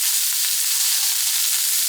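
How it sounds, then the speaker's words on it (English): Beef spread in a single layer sautéing in a pan for a stir fry, a steady bright sizzle with no pauses or voices over it. "try to spread the beef out under one layer and just let it saute"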